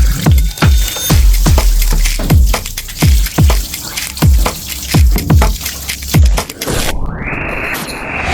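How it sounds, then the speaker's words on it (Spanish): Dirty, yellowish rinse water gushing out of a gas stove being cleaned, in a string of about a dozen loud rhythmic splashing surges, ending in a steadier rushing pour. "Miren todo el agua churriosa que está saliendo de aquí."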